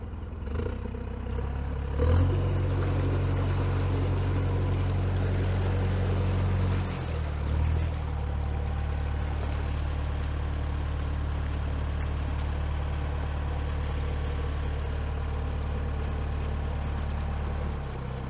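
A narrowboat's engine chugs steadily along the canal, a deep continuous rumble with a heavier throb for a few seconds early on, close and unbroken throughout, with no voices.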